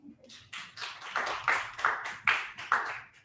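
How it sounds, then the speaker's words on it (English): Audience applause at a nonprofit kickoff event in Atlanta marking a year of daily meal deliveries, heard as a short run of irregular, moderately loud hand claps from a small nearby crowd with no talking. "Let's give a round of applause."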